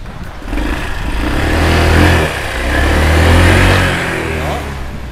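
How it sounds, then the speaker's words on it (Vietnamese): A Honda Lead scooter in like-new condition with an original engine starts up and runs, a close mid-pitched engine hum that swells twice as it revs. "Bây giờ em chỉ nổ máy thử thôi."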